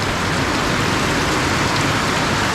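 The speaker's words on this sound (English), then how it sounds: "We're getting a good little summer shower." Steady, even summer rain shower falling and spattering on surfaces nearby on a farm, a continuous broadband hiss with no voices.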